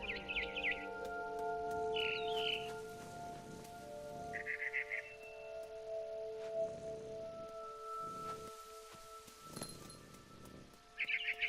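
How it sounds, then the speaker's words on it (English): A barn swallow chirps in short, faint twittering bursts over a quiet ambient music bed in the video game What Remains of Edith Finch, with brief bird calls spaced several seconds apart. "Then I heard chirping outside my window. It was a barn swallow going back to her nest."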